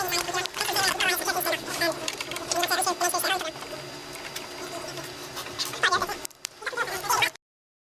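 A printer whirs and clatters in rapid mechanical bursts, pausing midway before resuming, close by, with a voice speaking now and then.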